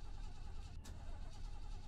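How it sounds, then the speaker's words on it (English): Car engine failing to start while stranded on a road, a low rumbling turnover with a brief hiss in the middle, faint and continuous without catching. "And my car won't start."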